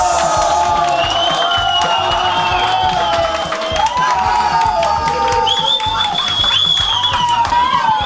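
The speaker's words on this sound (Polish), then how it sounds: "Gorący aplauz" A crowd at a slalom awards ceremony cheers and whoops with scattered clapping, steady and loud, while a voice carries over the top.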